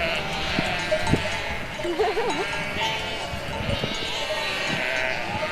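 Sheep bleat several times at close range, wavering calls over a soft rural background with faint knocking sounds.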